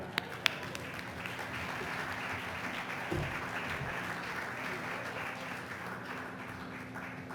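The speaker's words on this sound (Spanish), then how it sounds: "recibamos con un fuerte aplauso al médico Mauricio Lastra" Audience applause welcoming a physician to speak at a talk on water and climate change, a moderate, steady clapping from a seated room, heard at a slight distance.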